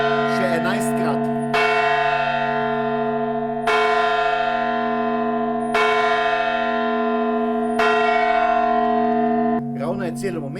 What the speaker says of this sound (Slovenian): Ravno kar slišimo polnourno zvonjenje in zdaj se bo začelo.